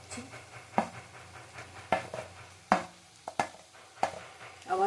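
Tomatoes sizzle softly in a frying pan with plenty of oil as they are stirred, with a series of scraping, knocking stir strokes at a fairly regular pace over a low frying hiss.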